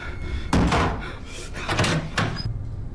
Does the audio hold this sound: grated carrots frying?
no